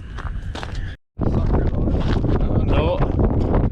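Wind blowing outdoors on a frozen lake during overnight ice fishing, loud buffeting gusts against the microphone with a short silent gap, voices talking beneath the noise.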